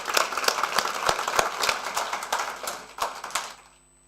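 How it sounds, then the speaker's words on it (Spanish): A modest audience at a university lecture in Chile claps for a guest speaker, with distinct individual hand claps close by forming a loose, steady round that tapers off at the end. "Un aplauso para nuestro invitado,"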